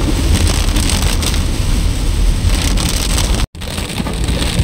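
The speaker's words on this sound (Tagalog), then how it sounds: "malakas ng ulan" Heavy rain in Albay, Philippines pours steadily in a dense, loud roar, broken by a brief dropout near the end before the downpour resumes.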